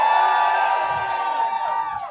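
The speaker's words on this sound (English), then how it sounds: "So Bipty Says, give me a loud cheer" Audience at a drag show competition in Newcastle lets out a loud cheer, a sustained mass of voices and whoops that holds steady and then tapers off at the end.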